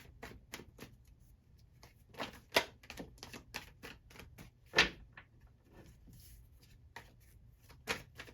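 Tarot cards shuffled by hand during a love pick-a-card reading, giving a run of crisp, fast card flicks and taps in a quiet room, with a few louder snaps near the middle and end.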